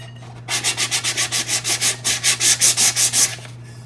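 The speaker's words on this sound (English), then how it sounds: "I'm going to do a light sanding" Rhythmic light hand-sanding of a glitter-coated tumbler cup with 400 grit sandpaper, about fifteen quick, even strokes close up, with a low steady hum beneath.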